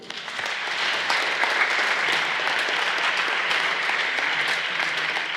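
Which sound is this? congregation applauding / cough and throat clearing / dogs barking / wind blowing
congregation applauding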